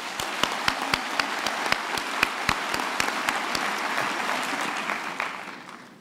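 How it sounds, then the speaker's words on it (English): A large audience applauds at a university graduation ceremony in a hall, a steady dense wash of clapping with a few sharp nearby claps standing out, fading slightly at the end. "Give them another round of applause"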